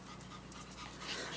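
Dogs panting on a hot day, quick rhythmic breathy huffs close by, fairly quiet and steady over a brief moment with no one talking.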